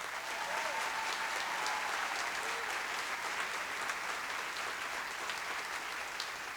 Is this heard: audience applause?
yes